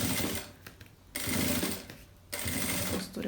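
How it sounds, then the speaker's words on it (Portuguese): Sewing machine running in two steady bursts as it stitches fabric from the middle outward, a fast dense whir with a brief pause between runs, close and loud with no talk. "Vou começar a costurar então aqui do meio"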